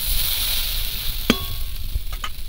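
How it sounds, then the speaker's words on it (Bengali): Vegetables frying in a covered pan, giving a steady sizzle throughout with a sharp clatter of stirring or a lid about midway and a few later scrapes. "ঢাকা দিয়ে সবজিটা ভাজবো।"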